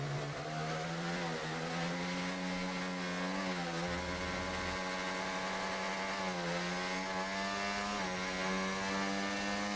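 A high, buzzing F1 car engine in the F1 24 video game drones continuously, its pitch wavering and stuttering up and down as traction control limits the revs.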